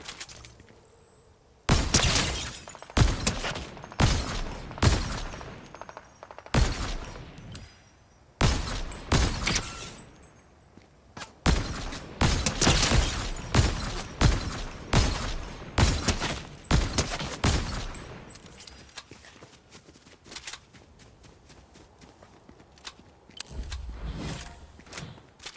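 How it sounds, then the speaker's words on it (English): Bursts of video game gunfire crack repeatedly in rapid volleys, loud and close, broken by short pauses and thinning to scattered shots near the end. "That shooting was horrible, but at least got him."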